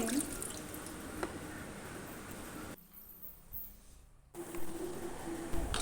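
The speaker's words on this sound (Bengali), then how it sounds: "এখানে একটুখানি টমেটো ধুয়ে নিচ্ছি" Tap water runs steadily over tomatoes being washed in a sink while preparing a devotional evening meal, a close continuous splash that drops out briefly midway and returns, with a voice talking over it.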